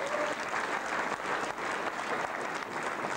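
An audience at a charity gala applauds with steady, dense clapping throughout, heard from within the hall.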